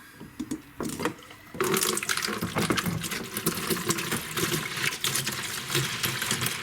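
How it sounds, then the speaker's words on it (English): Water pours into a pail at an off-grid shower pump setup, a broad steady rushing splash that starts after a brief quiet lead-in and continues loud and close to the end. "we're going to add some water to this pail"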